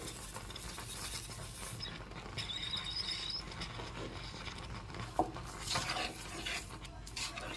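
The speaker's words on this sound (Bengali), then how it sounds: "আর অনবরত নেড়েচেড়ে একটু ঘন করে নেব আমি।" Palm fruit kheer with sugar being stirred in a pan, a soft steady scraping and gentle bubbling at low level, with one small clink of a utensil.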